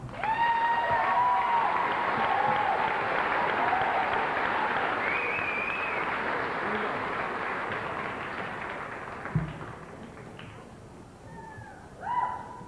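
Sustained audience applause at a 2000 high school graduation ceremony for a student being commended, dense and steady, with a few tonal whistles or cheers above it, slowly thinning toward the end.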